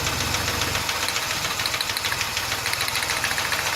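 A car engine idling roughly during a misfire check with a spark plug wire pulled, a steady uneven chugging with ticking and knocking, close and continuous with no talk.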